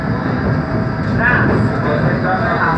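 A CPTM Line 7 Ruby Series 9500 commuter train runs between Luz and Brás stations in São Paulo, giving a loud, steady, close rumble with a continuous roar that holds throughout.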